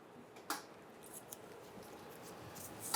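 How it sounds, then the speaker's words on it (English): A razor blade slices through a rubber fuel hose on a 1997-2006 Jeep Wrangler during fuel pump work. Quiet, with a couple of brief crisp cutting snips and faint scraping between them. "I'm going to come on over here with my razor blade. I'm giving it a nice clean cut right through."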